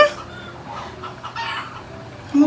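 Chickens belonging to a neighbour cluck softly at a moderate distance, a few short calls over quiet background noise.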